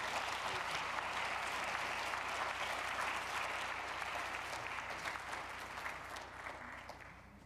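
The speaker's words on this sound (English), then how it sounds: "join me in giving Tracy a round of applause" Conference audience applauding after a keynote plenary talk, a sustained burst of many hands clapping from a crowd in a hall that gradually tapers toward the end.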